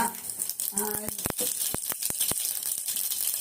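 Mustard seeds and fenugreek sizzling in hot oil in a home kitchen: a steady crackling hiss punctuated by sharp popping ticks and clicks, with a voice talking over it.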